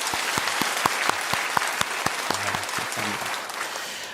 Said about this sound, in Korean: 우리 찬양을 통해서 영광 받으신 하나님께 영광의 박수 올리도록 하겠습니다.